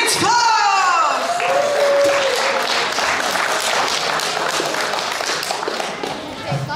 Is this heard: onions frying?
no